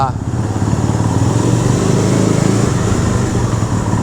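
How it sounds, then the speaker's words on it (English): A 1965 Honda CB160 twin-cylinder motorcycle engine idles and runs close by with a steady, throbbing rumble, continuous throughout, while someone talks over it. "This thing runs like a brand new motorcycle"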